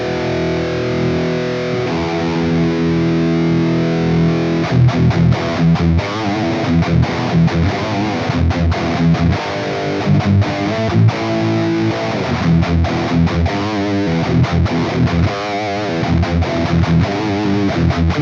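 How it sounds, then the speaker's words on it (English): Electric guitar through the Black Op distortion on a Hotone Xtomp Mini in a high-gain amp and cabinet setup, sustained saturated chords first, then choppy palm-muted riffing with sharp stops, loud and alone. "Let's see if we can push this with something like the Black Op distortion."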